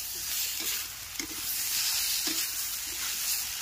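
Ginger paste, chili paste, turmeric and salt sizzling in a pan, a steady close hiss broken by occasional soft stirring scrapes, with no voices.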